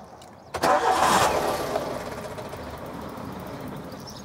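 A Nissan K11 Micra on fresh fuel and a new battery cranks and catches with a sudden loud burst. It then settles into a rough, uneven idle as the engine struggles to keep running.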